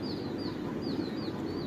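Native country hens brooding and minding their young chicks, with soft clucking and repeated high thin peeping from the chicks over a steady low farmyard background, no talk.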